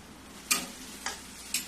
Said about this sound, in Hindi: देखो ये प्याज टमाटर भून गई है